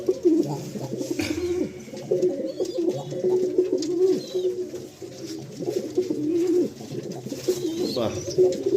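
Several pigeons coo in repeated low, throaty rolls, close by, with a person talking faintly in the background.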